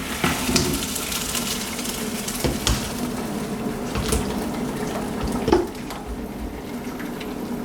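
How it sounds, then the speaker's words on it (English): Water from parboiled rice drained straight into a kitchen sink, giving a steady, close, fairly loud rush and splash that keeps going throughout, with a brief louder gush near the end. "we're going to just drain that straight into the sink"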